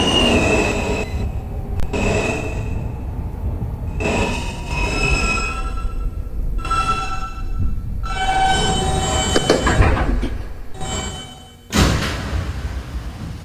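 An R160 N local subway train runs along its route, loud rumbling wheels with repeated sharp squeals and screeching tones that rise and fade in bursts, ending with a sudden louder surge.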